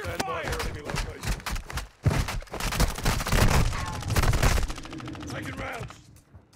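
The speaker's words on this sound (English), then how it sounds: "You are taking effective fire." Dense bursts of automatic gunfire and heavy shooting in Call of Duty DMZ, The Haunting mode, crackling loud and close for several seconds while voices talk over the battle.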